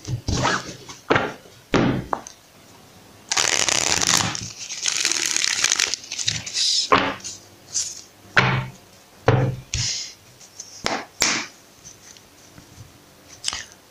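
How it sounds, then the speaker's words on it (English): Tarot cards being shuffled by hand during a reading, giving a run of soft papery riffles, thumps and crinkles in irregular bursts, close and fairly loud, with no speech. "let's shuffle."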